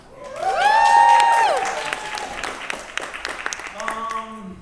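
Applause with whoops and cheers from a crowd gathered at a celebration-of-life event, opening with rising shouted tones over the clapping before settling into steady, moderately loud clapping that carries on to the end.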